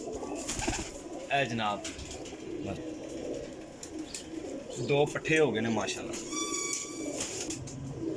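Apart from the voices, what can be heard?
Teddy pigeons cooing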